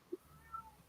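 The landlady's male cat gives a brief, faint meow, with a second soft, thin cry just after, both quiet and somewhat distant indoors.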